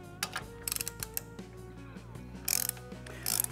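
A ratchet loosens the fork cap on a Harley Davidson fork during a rebuild, giving bursts of close metallic clicking in a mechanical workshop setting, with no talk.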